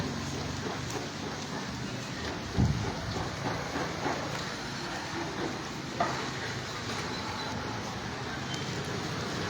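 Steady rain falling outdoors in Tamil Nadu, a continuous hiss of drops filling the scene with a couple of brief louder knocks, while voices are faintly present underneath.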